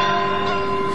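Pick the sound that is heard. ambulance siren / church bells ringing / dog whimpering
church bells ringing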